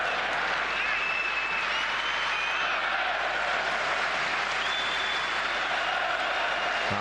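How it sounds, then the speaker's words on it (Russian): Sustained applause from Chelsea supporters fills a football stadium during the 2017 FA Community Shield against Arsenal, a dense, steady wash of clapping and crowd noise that stays loud from start to finish. "Аплодисменты со стороны болельщиков Челси уже звучат."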